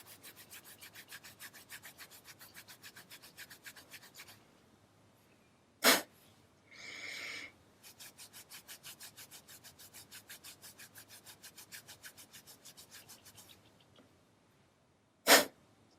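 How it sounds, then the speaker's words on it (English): Hands vigorously rub the body during Tibetan Nejang yoga, a steady rapid rhythmic swishing friction that runs for several seconds, pauses, then resumes, close and moderately loud, with two sharp bursts in between. "This time rub vigorously, just warming the whole area."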